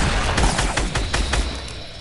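Double-barreled shotgun fire in a video game: a rapid run of loud booming blasts packed close together over a dense, noisy backdrop, with no talking.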